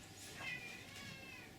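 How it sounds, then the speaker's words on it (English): A cat lets out an odd, drawn-out warbling meow, close and fairly quiet, over a faint background hum. "Cat's making a strange noise."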